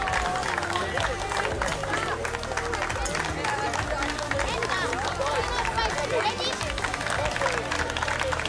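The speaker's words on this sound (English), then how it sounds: "Give a round of applause to the boys." A crowd at a youth football championship award presentation in Singapore applauds the boys' team with dense, continuous clapping and cheering, loud and close throughout, with chatter mixed in.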